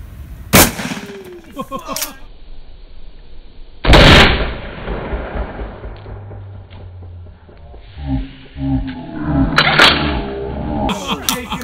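A 12 gauge shotgun fires double aught buckshot at armor plate from seven yards, giving two loud, sharp close blasts with echoing tails, followed by people talking.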